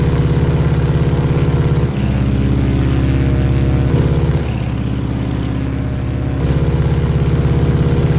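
A Pilatus PC-6 single-engine propeller plane drones steadily while climbing in a flight simulator, with a loud, even engine hum throughout and brief shifts in tone partway through, and no talking.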